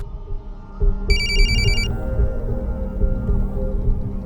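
A phone rings with a short burst of high electronic trilling tones, heard once over a steady low background hum.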